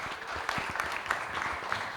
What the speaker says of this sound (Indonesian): boleh kita beri tepuk tangan.